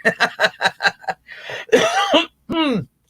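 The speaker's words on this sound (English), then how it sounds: "Clearing my throat." A rapid burst of short laughing breaths, followed by a harsh, rasping throat clearing and a brief vocal groan, close and fairly loud.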